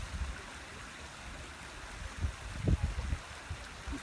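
A beck flows down a rocky, V-shaped valley channel, giving a faint, steady watery rush with a few soft splashes and no voices.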